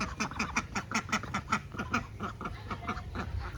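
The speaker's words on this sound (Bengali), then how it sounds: "হাঁসের মনে হয় খিদে লেগে গেছে।" Ducks quack in a rapid run of short, nasal calls, close by and fairly quiet, with the birds calling over one another.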